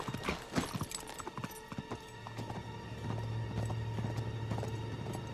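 Horse hooves clip-clopping in the Uncharted 3: Drake's Deception caravan section, irregular close hoofbeats at first, then a steady low rumble of galloping under a sustained tone, with no speech.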